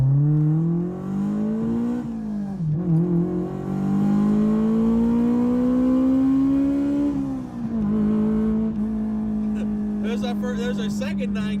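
A Honda S2000 AP1 accelerates hard through the gears, its engine note climbing in long rising pulls with brief dips at each shift, loud and close from inside the car, with a voice at the very end.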